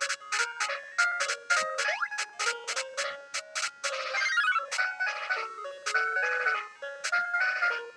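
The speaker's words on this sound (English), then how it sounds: "Oh, a music box. That's nice." A music box melody from the Mickey Mouse Magic Wand video game plays, bright plucked notes repeating in a steady tinkling pattern with a brief rising glide, continuous and moderately loud with no talking.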